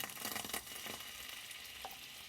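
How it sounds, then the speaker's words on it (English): A hot pan on a stove sizzles loudly as water goes in, a steady close hiss with crackling bursts throughout the short moment. "Hopefully we will get a nice sizzle as it also goes into this water."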